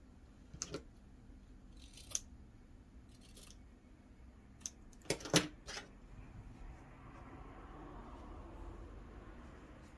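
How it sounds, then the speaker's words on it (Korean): Scissors cut the cords of a macrame doll's skirt in a quiet room, giving several crisp, separate snips spread across the stretch, with one louder burst of clustered cuts in the middle. "치마를 잘라주세요."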